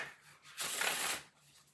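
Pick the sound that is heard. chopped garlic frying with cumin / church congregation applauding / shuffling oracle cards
shuffling oracle cards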